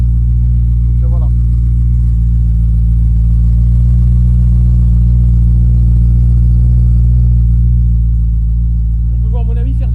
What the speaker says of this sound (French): j'ai les silencieux modifiés Eisenman, il n'y a que ça qui est modifié